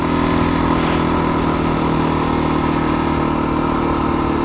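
A Suzuki DRZ400SM motorcycle engine idling high, holding a loud, steady hum close by for the whole stretch with no change in pitch and no talking.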